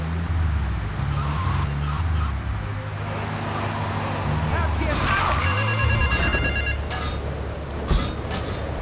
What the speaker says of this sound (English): I like how this guy is just calling the payphone.